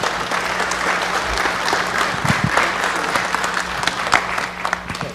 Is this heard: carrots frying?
no